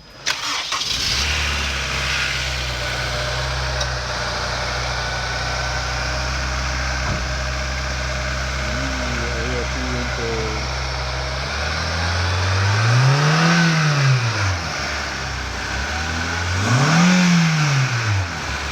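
A Honda S2000 engine fitted with an aFe cold air intake starts and settles into an idle, then revs up twice in rising and falling swells, loud and close.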